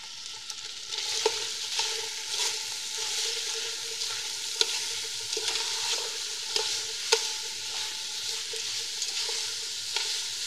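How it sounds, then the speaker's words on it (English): Onions and garlic sauté in a pan with browned meat, producing a continuous, moderately loud sizzle with regular soft clicks from stirring and no voices. "add any ingredients required by the recipe to be sauteed, like onions"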